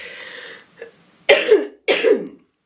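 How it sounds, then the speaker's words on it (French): Two sharp, close coughs follow a soft breathy sound, each cough harsh and raspy with a short pause between. "Tant que je ne suis pas endormie, je tousse."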